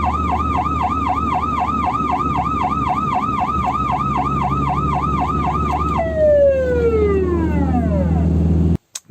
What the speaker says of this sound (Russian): второй звук сирены